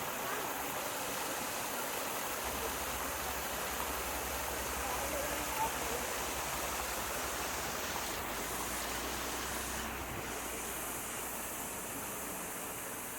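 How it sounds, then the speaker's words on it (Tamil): A large waterfall near a forest temple in rainy hills roars in a steady, dense rush of water that fills the scene throughout with no pause. "பெரிய ஃபால்ஸ் இருக்கு"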